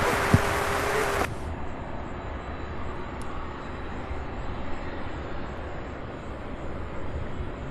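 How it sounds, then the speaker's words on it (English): A DC-9 airliner approaching to land at Louisville airport makes a faint, distant, steady roar that carries on evenly after a short burst of noise at the start. "I'm hoping this DC-9 lands here on our side."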